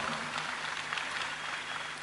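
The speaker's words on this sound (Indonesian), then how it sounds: "Tepuk tangannya untuk Gus Miftah saudara semuanya." Sustained applause from a sizable crowd fills the space, even and continuous from start to finish.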